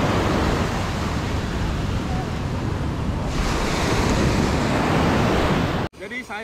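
Ocean surf at Waikiki Beach in Honolulu, Hawaii, a loud continuous roar of breaking waves mixed with wind buffeting the microphone, cutting off abruptly near the end.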